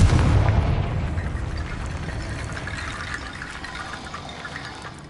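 A Confringo blasting spell explodes in Hogwarts Legacy with a loud, deep boom that rolls out into a long rumbling decay lasting several seconds, heard alone.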